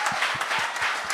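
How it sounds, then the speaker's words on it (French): Audience applause at a French-language comedy show after an opening performance, brisk clapping with a few distinct, regularly spaced claps standing out, close and moderately loud. "J'aimerais ça qu'on l'applaudisse quand même."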